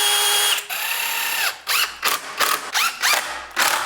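A power drill whines in several short bursts, rising and falling in pitch as it pre-drills into wood for a porch swing, close and loud with no talking.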